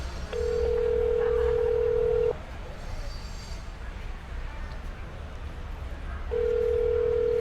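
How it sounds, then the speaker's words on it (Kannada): Repeated ringback tones on a telephone call to a quit-smoking helpline, a steady purr lasting about two seconds, a pause of several seconds, then another ring starting, over a constant low hum of background noise. "ಫೋನ್ ರಿಂಗ್ ಆಗ್ತಾ ಇದೆ ನೋಡೋಣ ಏನು ಹೇಳ್ತಾರೆ ಅಂತ"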